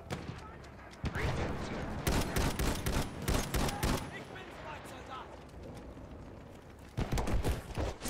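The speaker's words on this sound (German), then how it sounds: "Ich glaube, die campen auch wieder mit dem scheiß MG irgendwo." Machine gun fire in the Battlefield 1 video game comes in rapid bursts of gunshots amid a loud battlefield, with someone talking between and over the shots.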